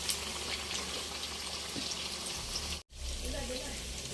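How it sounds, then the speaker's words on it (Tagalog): Steady sizzling hiss of tofu frying in hot oil in a pan, close and continuous, with a brief cut partway through and faint voices in the background. "ito ko nagpiprito na ng tokwa para po sa ating tokwa at baboy."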